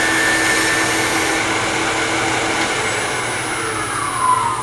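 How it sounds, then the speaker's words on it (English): A skew chisel on a wood lathe turns a tenon, giving a continuous, fairly loud whooshing hum with a steady cutting hiss throughout and no voices. "Back to my skew chisel."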